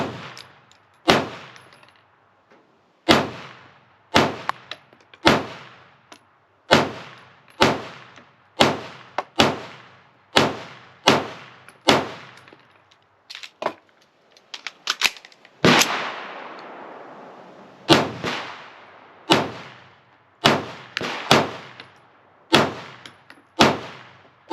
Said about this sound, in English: Let's fire through a couple of more magazines.